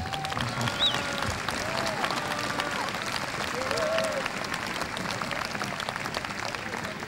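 An audience at an outdoor son et lumière historical pageant in Brebotte applauds the volunteer seamstresses, sustained crowd clapping throughout with some voices mixed in, steady and fairly full.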